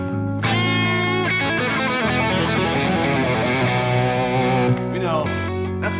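A Telecaster electric guitar played with its volume on 10 rings out loud and thick with driven, distorted tone, sustained chords that hold and shift across several seconds with no talking.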